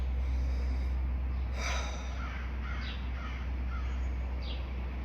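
A crow caws a few times at a distance, faint short calls over a steady low background hum.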